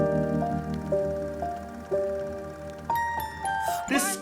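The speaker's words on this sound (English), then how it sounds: "folkish, music box sounding bell sound is not bad." A music box bell motif from a pop song rings out as a clear, plinking melody of sustained tones over a soft backing, ending in a brief swell of brighter sound.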